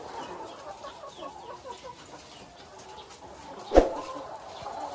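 Newly delivered Dekalb White layer hens cluck softly and intermittently in a group, with one sharp louder knock or squawk standing out briefly near the end.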